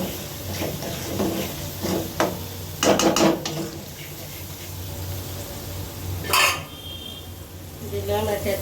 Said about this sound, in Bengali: এবারে আমি মাছটা দিয়ে দেবো।